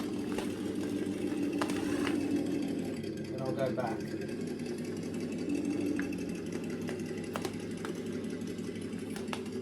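An RC crawler's engine sound module hums and chugs at a low, steady idle, with someone talking over it and occasional sharp clicks.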